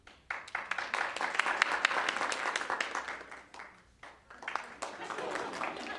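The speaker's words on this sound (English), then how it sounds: "Clap for vote." Attendees at a city board of commissioners meeting clap to cast a vote, bursts of fairly close hand clapping that dip briefly and resume, mixed with voices talking over it.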